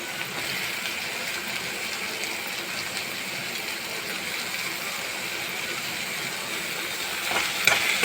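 Tomato, carrot and beans sauté in a pan with a steady, close sizzling hiss, rising slightly with a few stirring scrapes near the end.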